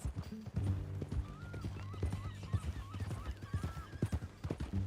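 A horse in the Red Dead Redemption 2 video game clops along with rapid hoofbeats and lets out a clear whinny, set against low background ambience.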